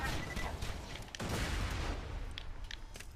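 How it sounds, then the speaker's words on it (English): Turret gunfire in the video game Borderlands 2, a steady stream of rapid shots and blasts that stays loud and dense throughout, with a faint voice underneath. "now our turret's active. We'll go ahead and try to kill this R-loader"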